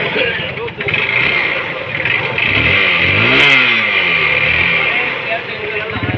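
A Bajaj Boxer motorcycle engine revs up and down with rising and falling pitch near the middle, over a steady running drone, while people talk over it nearby.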